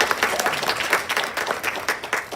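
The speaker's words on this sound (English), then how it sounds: "Yes, clap it up." Brief clapping from a small group at a work-family policy celebration, uneven and moderately loud, fading in and out after a speaker introduction.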